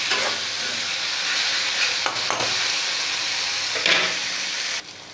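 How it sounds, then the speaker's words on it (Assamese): Onions fry with spices and garlic in a pan for a duck egg curry. A steady, fairly close sizzle and hiss runs throughout, broken by a few sharp scrapes or clinks of stirring and a sudden drop near the end. "এতিয়া এইখিনি মই একেবাৰে ৰংচোৱা হ'লৈকে ভাজিম।"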